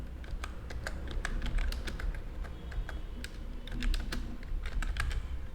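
Fingers type on a computer keyboard in quick, uneven runs of crisp clicks, close and fairly loud, with short pauses between bursts over a low background hum and no talking.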